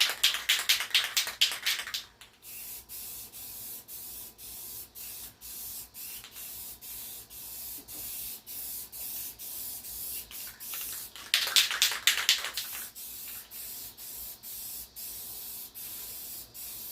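Aerosol paint sprays in two hissing bursts of about two seconds each onto a wooden boomerang, with the can's rattle and faint clicks between them.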